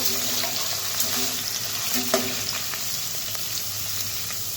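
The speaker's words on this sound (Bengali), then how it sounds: "লাল লাল করে ভেজে নেব।" Potatoes frying in a pan, with a steady close sizzle and occasional scraping stirs and light clinks throughout.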